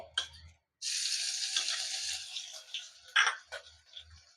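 Ginger is dropped into two to three spoons of hot oil in a pot. A sudden loud sizzle bursts in after a short pause and keeps hissing steadily, then settles with a few sharper spits.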